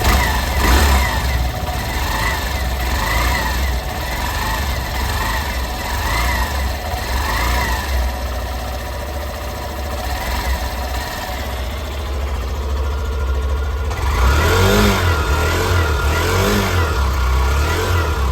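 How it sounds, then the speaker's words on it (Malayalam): A 2024 Hero Glamour Xtech 125 motorcycle engine runs steadily at idle, then revs up sharply near the end with louder, rising throttle bursts. "ഇഗ്നീഷൻ ഓൺ ചെയ്തിട്ട് വണ്ടി ഒന്ന് സ്റ്റാർട്ട് ചെയ്ത് എൻ്റെ നോട്ട് കൂടെ നമുക്കൊന്ന് കേൾപ്പിച്ചു തരാം"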